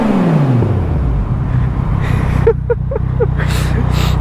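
Yamaha MT-09 gen 2 motorcycle engine revving loudly amid traffic, a steady loud engine roar with a few sharp throttle blips near the end.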